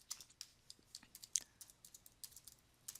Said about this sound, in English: I'm going to type in Chip